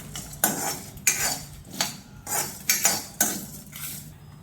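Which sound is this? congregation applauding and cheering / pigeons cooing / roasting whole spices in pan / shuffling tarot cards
roasting whole spices in pan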